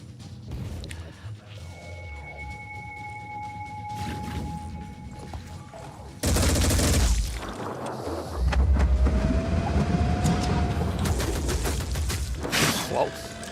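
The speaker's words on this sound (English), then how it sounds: "Turret fire." Turret gunfire in the strategy game Phoenix Point comes as a loud, dense burst of shots midway, followed by a second heavy rumbling volley amid quieter game ambience.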